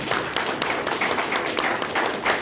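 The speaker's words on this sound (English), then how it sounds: "I want to give her a round of applause as well, because she's part of the reason. Round of applause, please." Moderate applause from an audience at a Manhattan training event, many hands clapping in a steady, slightly uneven patter for a couple of seconds with no voices over it.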